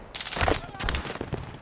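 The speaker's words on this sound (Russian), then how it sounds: "Пулемет опять возобновился" Machine gun fire in the video game Post Scriptum: a short stretch of rapid, rattling bursts at moderate distance, somewhat muffled, with faint voice chatter mixed in.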